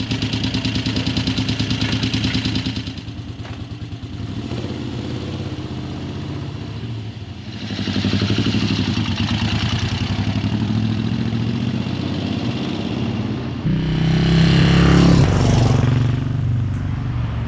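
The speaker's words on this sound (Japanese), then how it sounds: "純正のラフランコーニのマフラーはなかなか良い排気音を弾き出す" An 1980s Moto Guzzi Le Mans III with a longitudinal V-twin and stock Lafranconi muffler rumbles loudly and close, a steady throbbing idle that rises in blips of revs partway through and again near the end.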